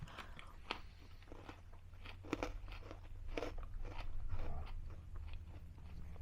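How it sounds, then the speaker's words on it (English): Close, crisp crunching and chewing of freeze-dried junk food, such as marshmallows and circus peanuts, with irregular bites and brittle crackles that grow denser midway, heard alone without talk. "Everything crunches."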